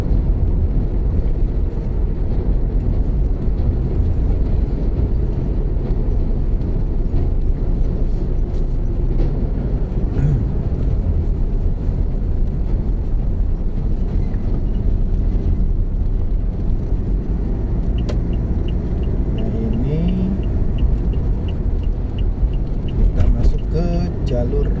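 Heavy traffic with large trucks such as container haulers and dump trucks at the Bekasi Timur toll road exit, heard as a steady, loud, continuous road and engine rumble throughout.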